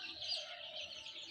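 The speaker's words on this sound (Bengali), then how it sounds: "দেশি মুরগি বাচ্চা বাইর হয়েছে, সোনালি এবং দেশি" Newly hatched native and Sonali chicken chicks peep in a faint, continuous high chorus of overlapping cheeps, heard close and alone.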